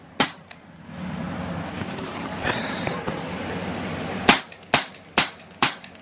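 Crosman 3357 paintball revolver firing, a string of sharp close pops, four quick shots near the end after an earlier pair, with a voice talking between them.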